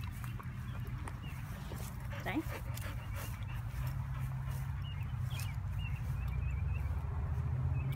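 A dog whimpers and pants close by against a constant low rumble, with a person briefly speaking a command.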